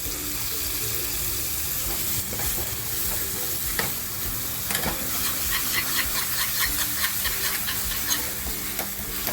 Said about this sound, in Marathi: थोडंसं हिंग लसूण मिरची कोथिंबीर सगळं ठेचा केला आहे तो याच्यामध्ये फ्राय करून घेते